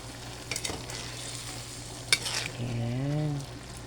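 Bean sprouts sautéed with tofu and pork in a pan being stirred, a constant sizzle with a few scraping clinks of the utensil, close up, and a brief tonal hum toward the end.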